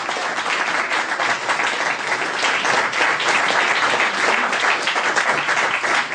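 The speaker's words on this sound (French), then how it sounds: "Et ensuite Vincent Violette, qu'on peut applaudir bien fort aussi" An audience at a French TV-series fan convention applauds loudly and continuously, a dense, sustained wash of many clapping hands with no voices over it.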